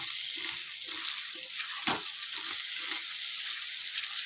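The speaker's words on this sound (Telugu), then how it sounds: "10 మినిట్స్ నుంచి అయితే మంచిగా ఇట్లా ఫ్రై అయింది." Pigeon pea pods frying and being stirred in oil in a pan make a steady close sizzle, with scraping stir strokes and one sharper clatter near the middle, and no talk.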